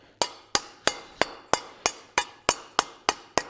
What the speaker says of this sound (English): I'm going to go to the corner of the anvil. I'm going to give it some curvature.